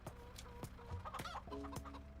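Chickens cluck in a farming video game, several short, sharp clucks coming in irregular bursts over a steady background hum or music.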